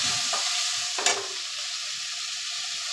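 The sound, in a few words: tomato and ginger-garlic masala sizzling while stirred in pan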